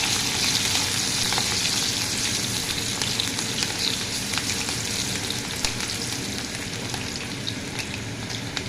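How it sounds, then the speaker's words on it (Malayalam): Tamarind frying in oil makes a continuous, close sizzle peppered with tiny crackling pops, steady throughout. "അത് മൂത്ത് വരുമ്പോൾ കുറച്ച് പുളി ഇട്ടിട്ട് അത് എണ്ണയിൽ കൊണ്ട് വറുത്തെടുക്കുക"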